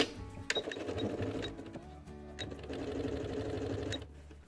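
A sewing machine runs in steady bursts as it stitches a pocket organizer with clear pockets, pausing briefly near the middle and ending abruptly, close and loud with no talking.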